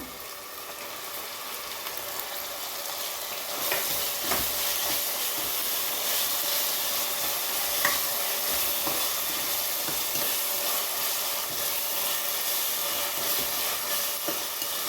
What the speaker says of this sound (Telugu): అల్లం వెల్లుల్లి పేస్ట్ బాగా వేగిన తర్వాత పుదీనా వేస్తున్నాను